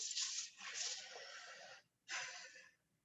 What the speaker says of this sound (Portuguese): Só respirando um pouquinho.